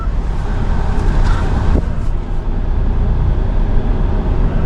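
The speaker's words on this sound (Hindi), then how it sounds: "एक बार गाड़ी को रिवर्स कर लेंगे क्योंकि एक कट में गाड़ी निकलेगी नहीं।" A car reversing on a street while making a U-turn in traffic, giving a steady, close engine and road rumble with faint traffic noise around it and one brief, sharp click partway through.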